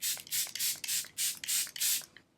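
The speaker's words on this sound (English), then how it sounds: "I've been spraying my foundation before I blend it in with my Charlotte Tilbury spray" Charlotte Tilbury setting spray is pumped onto foundation in seven quick, evenly spaced hissing bursts, close and fairly loud, then stops, with no talk.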